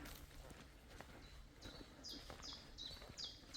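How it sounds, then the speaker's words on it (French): Birds chirp in a forest in the Doubs, France, in repeated short high bursts over steady outdoor background noise, moderately distant, with faint rustling or footsteps underneath. "Avec que le bruit des oiseaux."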